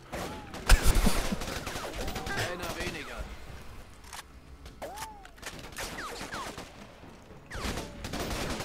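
Gunfire in the shooter video game Raven Squad: bursts of automatic fire and scattered single shots, loud in places and fading in between, with game ambience throughout.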